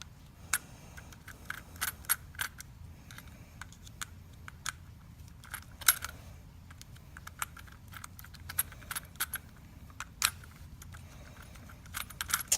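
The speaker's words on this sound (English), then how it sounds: "So we're actually going to take these screws out right here." Screws being backed out of a power cord plug connector: a scatter of small, sharp metallic clicks and ticks from a screwdriver and loose parts, close and fairly quiet over a low hum, with no speech.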